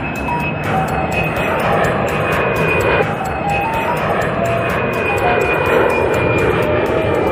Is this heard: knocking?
no